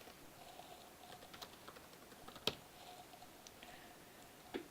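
Light keystrokes on a computer keyboard while entering text into a web content editor, faint scattered clicks in a quiet room with one sharper tap near the middle and another at the end.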